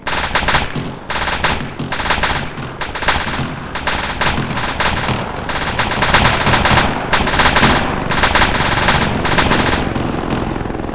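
Loud, close machine gun fire in the military video game ARMA 3, fired in repeated sharp bursts of rapid shots separated by short pauses, with sustained automatic fire through the second half.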